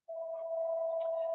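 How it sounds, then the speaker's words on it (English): A mobile phone going off during a live psychic reading show, sounding as a single steady electronic tone that starts abruptly and holds loud and even for over a second. "I can't believe that's my phone going off."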